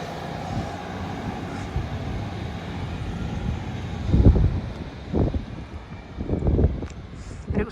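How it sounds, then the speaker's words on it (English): A Great Western Railway train pulls out of a station on the Par to Newquay line, a steady low rumble with rising bursts of engine and wheel noise as it gets under way, fairly close. "And running out now is the 1244 Great Western Railway service from Par to Newquay."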